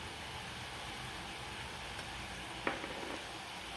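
Chopped carrots and beans cook in a pan for a millet semiya upma, giving a steady low sizzle throughout with a brief stir or clatter near the end.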